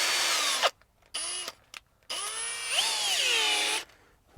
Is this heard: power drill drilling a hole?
yes